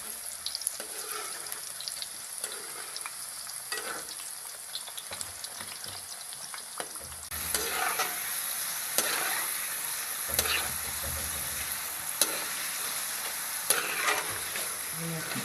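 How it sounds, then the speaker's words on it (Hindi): Homemade potato chips fry in hot oil over medium heat, a close, continuous sizzle with occasional stirring clatter that grows louder and fuller partway through, with no speech. "अब इसमें चिप्स डाल लेंगे फ्राई करने के लिए।"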